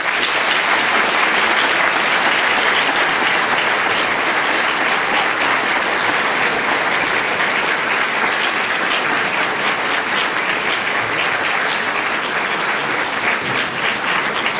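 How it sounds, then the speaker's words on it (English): A large crowd at a university graduation ceremony claps loudly and steadily, the applause holding at full strength without a break for about fifteen seconds. "Please give them a huge and rousing round of applause."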